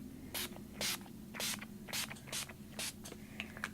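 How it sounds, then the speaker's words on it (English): Short bursts of spray paint misting from a can, about eight quick sprays in an uneven rhythm, close by, over a low steady hum. "So I'm going to spray some there"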